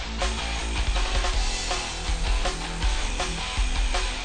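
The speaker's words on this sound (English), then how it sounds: "This is my die grinder, and I use a 60 grit pad to get all kinds of crazy designs in my metal." A die grinder with a 60 grit pad grinds steadily against metal, a dense harsh whir with repeated scraping bursts as the pad presses and lifts.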